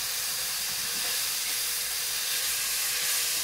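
A steak sears in butter in a hot pan, giving a steady, close, hissing sizzle that holds even throughout with no talk.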